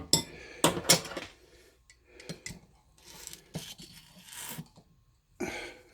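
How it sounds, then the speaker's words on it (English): A spoon scrapes and clinks around a dish while stirring an olive oil and spice marinade for turkey, in short irregular bursts with pauses, close and moderately loud. "So you're going to stir it up good."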